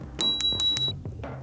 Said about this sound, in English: The bell sound is really present.